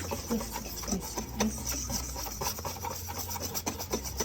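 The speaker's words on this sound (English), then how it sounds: "Then whisk it, and always whisk with love." Continuous brisk scraping and rustling of a whisk stirring flour, baking powder and other dry cake ingredients in a bowl, close and fairly quiet, with no talking.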